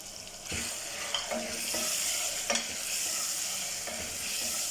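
Green chillies fry in a pot of spicy boneless chicken handi while being mixed, a steady close sizzle broken by several scraping stir strokes.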